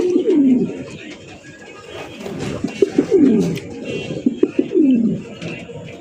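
Male pigeons coo repeatedly in a loft of red Danish pigeons, a series of close, rolling low coos recurring roughly every second and a half over faint background chatter.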